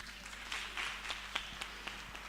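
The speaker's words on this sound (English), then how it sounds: "Round of applause, ladies and gentlemen," An audience applauds at a ceremony for graduates and farmers, a fairly soft, steady wash of many hands clapping with a few sharper individual claps standing out.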